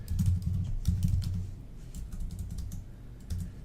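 Computer keyboard typing while writing C# code, a steady run of soft close keystroke clicks with small pauses, no speech over it.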